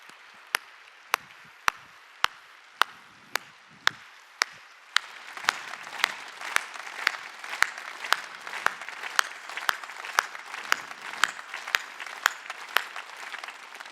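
A church congregation at a Christmas Sunday worship service claps in unison, sharp evenly spaced beats about twice a second that grow fuller and busier as more hands join, over a soft crowd murmur.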